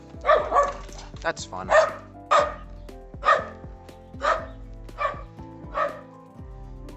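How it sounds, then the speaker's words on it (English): Dog barking in a small French village near grape plantations, a string of sharp close barks roughly one per half second to second, with a person speaking briefly among them. "there's a dog barking at me right now"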